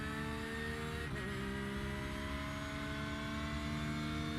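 A Porsche GT3R race car engine in a racing video game on the Circuit Gilles Villeneuve track, droning steadily and loudly with a sustained harmonic whine, a brief dip near the start, then holding an even pitch throughout.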